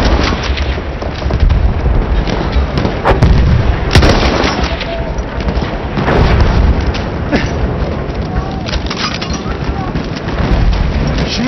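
Steady battlefield din from Battlefield 1 with repeated booming blasts and gunfire bursts over a constant wall of noise, loud and close, with a voice talking over it.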